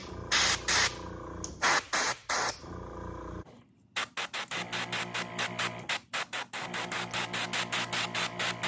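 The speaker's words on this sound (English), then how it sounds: "Make sure it's spraying." Short bursts of airbrush spraying paint onto a fishing lure hiss in quick rhythmic pulses, close up, with a brief pause midway before the rapid bursts resume.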